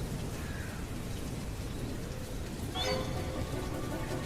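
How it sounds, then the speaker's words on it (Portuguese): Heavy rain falls steadily outside, a dense constant hiss, and a low rolling rumble of thunder swells in partway through before fading beneath the downpour; no one speaks. "A chuva caía forte lá fora e logo a noite chegou."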